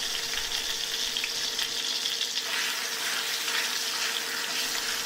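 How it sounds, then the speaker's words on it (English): Loud, steady sizzling of chicken frying in oil in a hot wok, a dense crackling hiss that continues without a break. "Hot wok, cold oil, and the chicken goes in."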